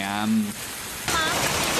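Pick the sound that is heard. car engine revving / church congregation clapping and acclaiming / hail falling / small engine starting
hail falling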